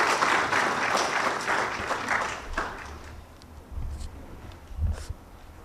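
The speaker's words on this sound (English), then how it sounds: "clap for them." Applause from an audience at a product launch event, a dense burst of clapping that thins and fades over several seconds as a few scattered claps and low room noise remain.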